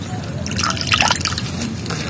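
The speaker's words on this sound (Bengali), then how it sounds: "আর এই পাতাটা একটু ধুয়ে নিচ্ছি।" Periwinkle (sadabahar) leaves being rinsed in water, a close, steady splashing and trickling with small drips for about two seconds, no talk.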